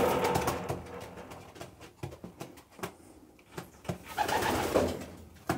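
A pigeon coos nearby in soft repeated throaty phrases, with rustling and shuffling between calls and no talking.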